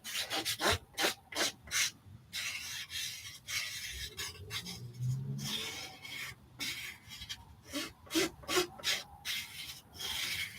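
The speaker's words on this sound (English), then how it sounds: "let's sand it in." Sandpaper rubbing back and forth over wood, a rapid series of short rasping strokes that come in close, loud bursts with brief pauses between them.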